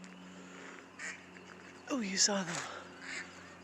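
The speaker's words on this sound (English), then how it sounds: "Geese and ducks." Geese and ducks honking and quacking outdoors on a walk, a brief burst of calls in the middle under a voice, with faint calls earlier and later.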